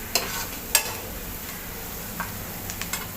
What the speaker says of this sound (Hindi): प्याज देखें हमारी अच्छे से ब्राउन हो रही है